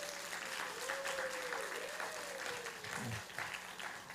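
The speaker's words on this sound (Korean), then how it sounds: "옆에 사람을 위해서 한번 응원의 박수 하시겠습니다." Church congregation at a Sunday worship service claps in a brief, moderate round of applause while a voice carries on faintly underneath.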